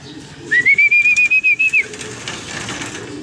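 Racing pigeon arriving at the loft after a training release from Unisan, Quezon, marked by a loud, near whistle blown as a rapid train of about nine short even pulses over steady outdoor ambience.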